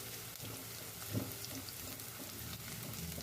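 Chopped ginger frying in a pan for a Filipino sarciadong isda fish dish, a steady close sizzle with light stirring and a brief louder crackle partway through, no talking.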